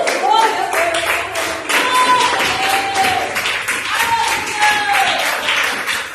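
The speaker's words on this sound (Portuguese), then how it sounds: "uma salva de palmas para a palavra de Deus" A church congregation bursts into sustained clapping after a preacher's reading, the applause steady and dense throughout, with a voice speaking over it.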